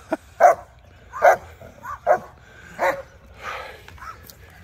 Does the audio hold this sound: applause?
no